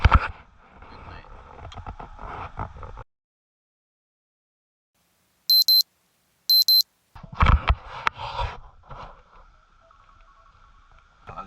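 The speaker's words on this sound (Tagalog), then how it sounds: "Ang alarm ng 6 a.m. now" An alarm clock rings at 6 a.m. inside a solo camper setup, giving two short bursts of bright electronic beeping in near silence, with talk before and after.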